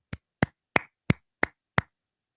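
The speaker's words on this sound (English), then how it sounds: "Let's give her a round of applause real quick." Six sharp, evenly spaced handclaps ring out one after another, close and crisp, then stop; no one talks.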